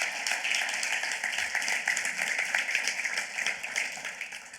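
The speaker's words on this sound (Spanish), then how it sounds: "denle ese aplauso como quiere dárselo al Señor" A church congregation applauds together during a service, a steady dense wash of clapping with no breaks, moderately loud and close, fading slightly toward the end.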